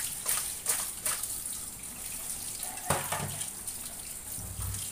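Pieces of fish are rinsed one by one under a running tap, a faint steady stream of water with intermittent splashes and clinks in a sink, close by and with no speech.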